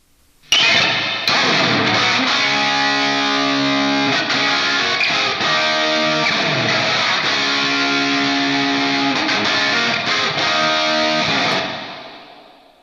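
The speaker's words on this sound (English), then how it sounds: "if I play my rhythm guitars now, you'll hear exactly what they are doing now." Distorted electric guitars chug through the rhythm riff of a song through NaLex Amplex amp software, loud and sustained with a wash of effects and reverb, ending in a ringing decay.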